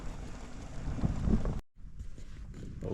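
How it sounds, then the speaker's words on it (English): Strong wind buffeting a staked-down tent in a gathering storm, a loud roaring gust that cuts out abruptly, then lighter rustling and flapping. "the wind is coming. Tent is rocking."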